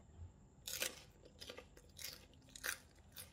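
Crisp crunching bites while eating som tam, a green papaya salad with fish sauce and pla-ra, eaten with crispy pork rind; several close, irregular crunches spread across a quiet moment with no talking.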